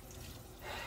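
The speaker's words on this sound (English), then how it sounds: "Now, I'm going to start running the cold water." Cold water runs from a tap into a sink for washing dishes, a soft, faint, steady hiss that swells slightly near the end.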